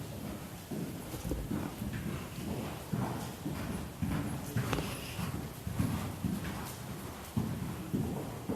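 A horse walking with a rider aboard, its hooves clip-clopping in a steady, even rhythm at close range, with no talk over the footfalls.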